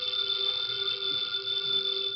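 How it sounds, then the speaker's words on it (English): Telephone bell ringing in an old NBC radio drama, a continuous bright electric ring, steady and clear with no talk over it. "the ringing of that phone bell means mystery, adventure"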